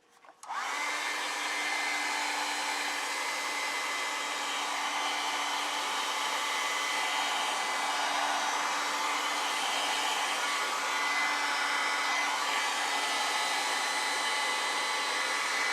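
Hair dryer blowing on a wet watercolor and ink sketchbook painting, switching on abruptly and then holding a loud, steady, unbroken roar for the whole stretch.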